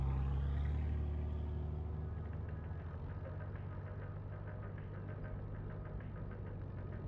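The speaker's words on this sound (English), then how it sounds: "He turned the key. The engine cleared its throat." A Jeep engine starts in a parking garage with a loud low burst, then settles into a steady idle with a rhythmic, knocking pulse and no voices.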